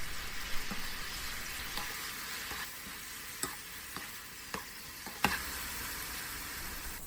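Fried imitation crab sticks get tossed through thickened sauce in a pan, soft sizzling under a series of irregular spoon clicks and scrapes, quiet and close with no talking.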